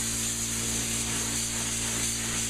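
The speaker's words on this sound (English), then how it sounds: "I'm spraying it dry. So when I put this on there, I'm not spraying a wet coat." A spray gun lays a dry coat of finish on kitchen cabinets, producing a close, continuous, even hiss with no pauses.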